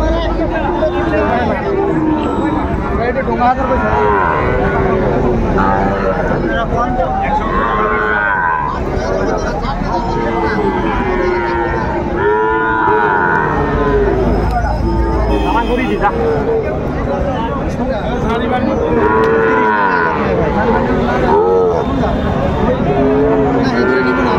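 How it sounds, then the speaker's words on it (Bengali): A Sahiwal bull calf moos repeatedly at a busy cattle market, its calls rising through constant crowd babble while people haggle nearby. "বেশ সুন্দর মানের বাচ্চা, শাহিওয়ালের ষাঁড় বাচ্চা"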